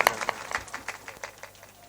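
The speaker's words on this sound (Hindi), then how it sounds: "एक बार जोरदार ताली का स्वागत करें।" An audience at a Ram Katha religious discourse breaks into brief applause, a loose patter of claps that peaks at once and then thins out over a couple of seconds.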